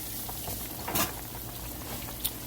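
Fish fries in hot oil at a Friday night fish fry, giving a steady, close bubbling sizzle with a couple of brief louder crackles and pops.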